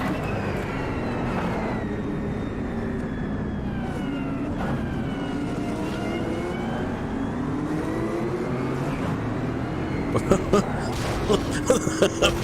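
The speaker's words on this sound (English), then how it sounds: "I hear the supercharger." A supercharged race car in Automobilista 2 at Spa 2022 gives off a continuous high whine that rises and falls with engine revs, loud and up close, with rattly bumps toward the end.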